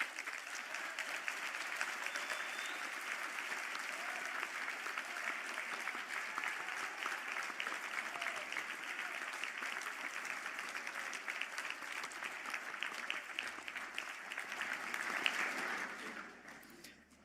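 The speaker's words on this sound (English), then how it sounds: "please stand for a round of applause" Audience applause fills a hall at a university conferring ceremony as agriculture and environmental management graduates stand, dense sustained clapping for about sixteen seconds before it fades out.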